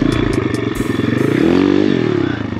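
An Amazon dirt bike's engine revs steadily as its rear wheel spins in loose dirt, a loud, close, continuous buzzing drone that rises briefly in pitch, with light clatter.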